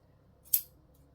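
A single quick scissor snip slices through antique fabric being cut into one-inch by eight-inch strips, a short crisp close cut in an otherwise quiet room.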